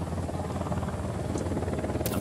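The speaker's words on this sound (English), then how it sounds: "Helicopter inbound." Helicopter in the Ghost Recon Wildlands video game, a steady loud rotor thrum running throughout with dense low pulsing and broadband whine, close and continuous, with no talk.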